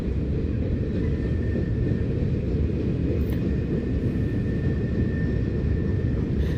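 A train passes through the small town of Palmer Lake, Colorado, as a deep, continuous rumble that holds steady and fairly loud from start to finish.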